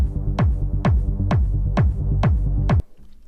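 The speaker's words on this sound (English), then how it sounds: "And all in all, the kick and bass sound like this." Techno kick drum and bass in a Drumcode style thump in six evenly spaced, booming hits with sliding low tails, loud and alone, stopping abruptly near the end.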